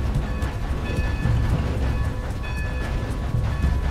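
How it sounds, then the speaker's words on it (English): A train rolls along steadily in the video game Red Dead Redemption 2, a continuous low rumble with faint rhythmic rail clatter and a few brighter metallic tones, loud and unbroken throughout. "My own train!"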